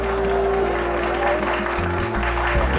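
Scattered applause in a Spanish-language zombie visual novel game's party scene swells into a broad wash of clapping, layered over steady background music.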